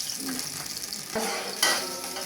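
Onions browning in plenty of oil in a pot for beef pulao crackle and sizzle, with stirring scrapes and a sharp burst of frying partway through.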